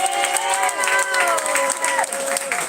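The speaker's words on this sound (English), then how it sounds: "I want to ask you to give this fella a nice round of applause." Guests at a wedding reception clap and cheer in steady, dense applause, with voices talking and calling out over the clapping.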